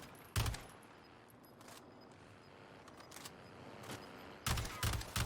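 Distant sporadic video game gunfire as a player shoots at a Bertha among trees in a solo match, a few sharp bursts at the start and end with quieter scattered shots between.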